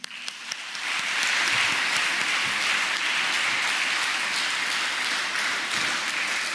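A congregation at a Sunday Mass breaks into sustained applause, starting thin and quickly swelling into a dense, steady clatter of many hands that carries on evenly to the end.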